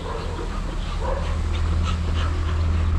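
A dog panting and whimpering close by, steady and continuous over a low background hum, with no clear barks.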